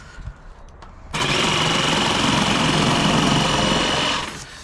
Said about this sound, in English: I have my jig. I'm gonna see if this will cut it.